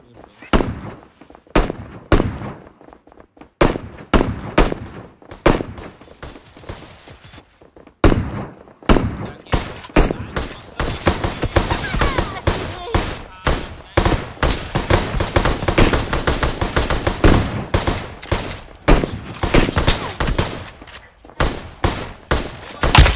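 Rapid automatic gunfire from a BGMI squad match, with dense crackling bursts and short pauses, growing into near-continuous firing in the second half.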